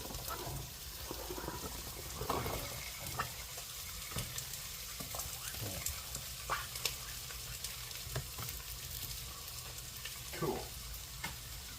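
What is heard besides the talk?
potatoes sizzling as they are added to a frying pan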